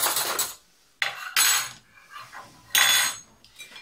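A spoon and other cutlery clink and scrape in short bursts while spaghetti with tomato sauce is twirled, with quiet gaps between the handling sounds.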